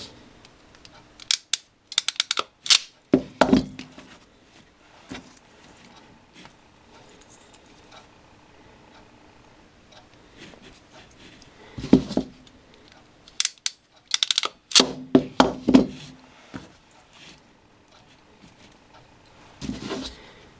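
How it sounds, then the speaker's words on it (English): Non-insulated crimpers squeeze female connectors onto wires for a Heezy HTS15 automatic transfer switch kit, giving close, sharp clustered clicks and crunches in a few bursts with quiet gaps between, no talking. "using your non-insulated crimpers, put the female connectors on all these"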